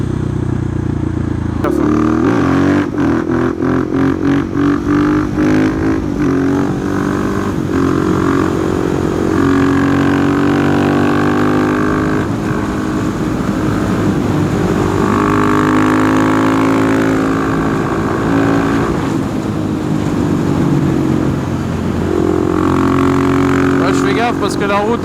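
A 2020 KTM 690 SMC R single-cylinder supermoto engine pulls hard on a damp road while overtaking a truck, its loud harmonic drone rising and falling through gear changes, with a rider's voice speaking over it.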